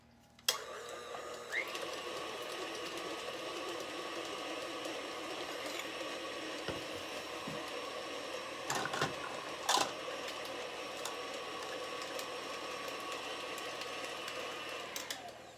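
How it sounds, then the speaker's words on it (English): Food processor blending butter and peanut butter runs with a steady, whirring motor drone throughout, broken by a couple of brief knocks and clunks partway through. "I have a 1/2 cup of butter and a 1/2 cup of peanut butter. In the food processor it goes."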